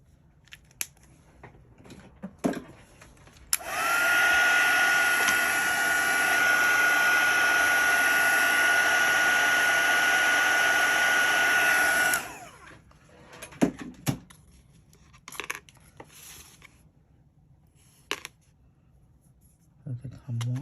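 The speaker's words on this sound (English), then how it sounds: "Let me see what will happen if I heat set it." Heat tool blowing hot air to set ink on shrink plastic charms: a steady loud whooshing roar runs for about eight seconds, with quiet handling clicks before and after.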